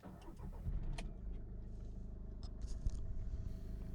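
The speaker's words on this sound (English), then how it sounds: "Let's turn on the engine." A modified 160 hp Volkswagen Vento diesel engine turns over and settles into a steady, low rumbling idle, with a few mechanical clicks and scrapes near the start.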